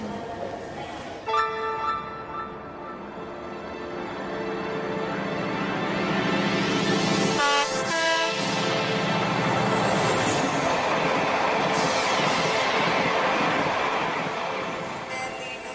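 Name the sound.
train departing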